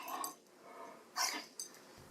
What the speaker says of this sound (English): This is what a debarked dog sounds like